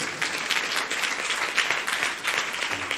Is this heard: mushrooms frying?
no